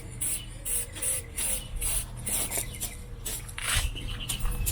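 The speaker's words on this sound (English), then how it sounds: "Then just spray it a little bit of that silver." Short hissing bursts of silver aerosol spray paint on a 1967–68 Mustang taillight, several quick pulses in a row at close range, with no talking.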